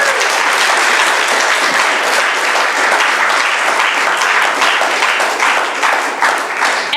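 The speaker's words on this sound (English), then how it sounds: "And while you're clapping" A crowd at a Camp Constitution event claps hard and steadily, a bright, dense roar of many hands that stays loud for the full seven seconds.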